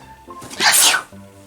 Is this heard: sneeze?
yes